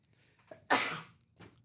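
A short sneeze erupts close by, preceded by a faint intake of breath and followed by a softer sound.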